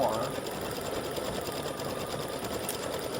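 A home embroidery machine stitches a crescent moon design in thread, a continuous fast mechanical whirring and rattling hum that stays steady and fairly close throughout.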